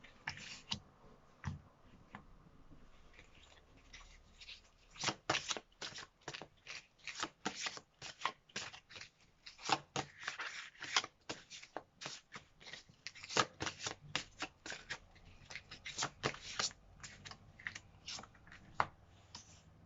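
Tarot cards are handled, shuffled and flipped over during a card reading, a quick run of close, crisp papery flicks and slaps in irregular bursts over a quiet background.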